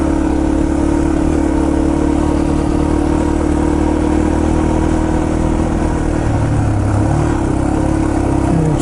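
A Yamaha TT-R230 dirt bike runs steadily on a forest trail loop, its engine droning loud and close with a slight pitch rise toward the end and no voices.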